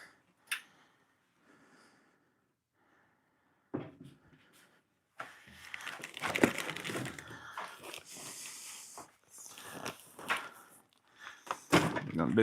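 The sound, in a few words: opening the drawers of a US General 5-drawer tool box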